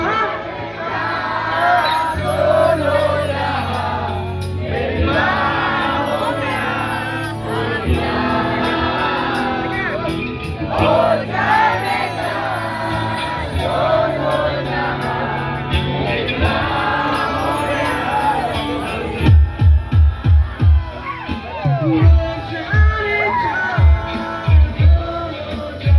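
Crowd at a live rock show at Police Bazar in Shillong, loud, massed voices cheering and shouting over amplified music, with rhythmic pounding beats building toward the end.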